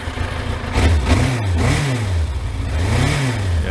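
A Suzuki Thunderace motorcycle engine runs almost out of petrol, its loud revs surging and sagging in uneven waves as it bogs down.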